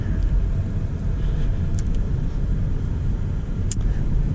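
A Porsche Taycan Turbo electric car driving on the road, with a steady low rumble of road and wind noise throughout and a couple of faint, brief higher ticks.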